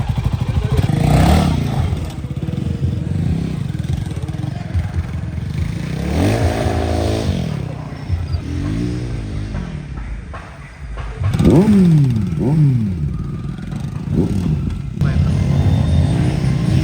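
An off-road motorcycle at a coastal auto carnival in Udupi–Manipal revs in repeated rising and falling bursts, loud and close, while people talk nearby over the engine.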